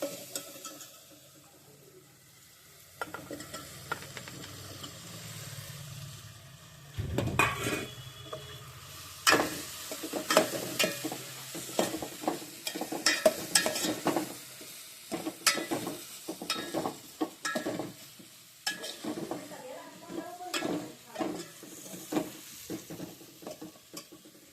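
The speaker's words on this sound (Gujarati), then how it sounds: "ગાઈસ કારેલા બફીને આપણે હવે કટિંગ કરાવી દીધા છે। હવે એને વઘારી દઈએ।" Boiled, chopped bitter gourd tempering in a hot pan, a soft steady sizzle broken by repeated scraping and stirring clatters of a spoon against the metal, close and fairly quiet with no talking.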